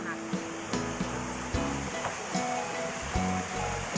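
A river rushes far below in a Swiss forest with a steady, continuous roar of flowing water, while voices talk over it.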